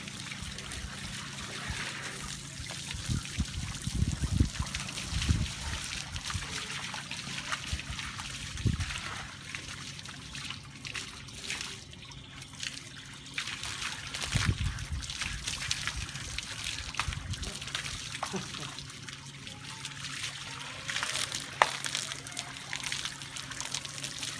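Water poured over a person's head outdoors, a steady trickling and splashing stream running through the clip, fairly close and moderately loud, with brief bursts of splatter.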